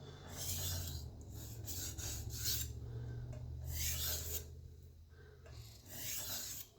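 A chef's knife is drawn across a sharpening stone in long rasping strokes, each swipe a close gritty scrape separated by brief pauses, over a low steady hum.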